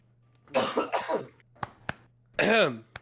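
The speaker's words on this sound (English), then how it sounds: "I still have this bad. really wicked nasty cough" A couple of rough coughs close up, followed by short clicks and a strained, voiced throat-clearing sound over a low steady hum.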